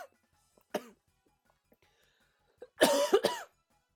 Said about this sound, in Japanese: すいません、ちょっと咳が